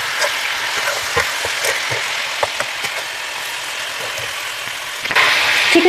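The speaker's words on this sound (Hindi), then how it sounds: "अब मीडियम फ्लेम पर चिकन को फ्राई करना शुरू करेंगे।" Chicken pieces fry in hot oil over a medium flame for a Peshawari chicken karahi: a steady, crackling sizzle with scattered pops, swelling louder near the end, with no voices.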